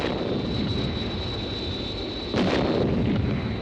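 Ground-to-air missiles launching with a continuous roaring rush and a sharp, brighter explosive burst near the end, loud and dense throughout, with a thin high whine running over the blasts.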